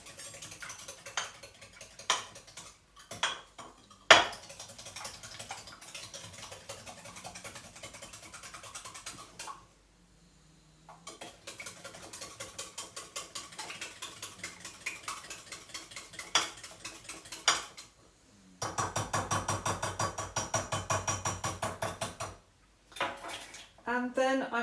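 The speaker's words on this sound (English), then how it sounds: "Okay, so now I'm going to beat the eggs up." Eggs beaten in a bowl, a rapid rhythmic clicking of utensil against the bowl in repeated bursts, with short pauses between bouts.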